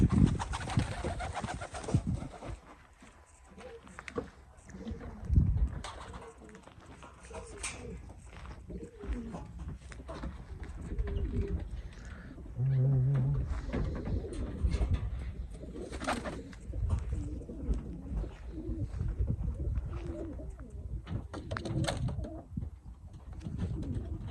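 A flock of pigeons at a loft in Adana, Turkey, coo and flutter among outdoor noise, with scattered wingbeats and a voice speaking intermittently nearby.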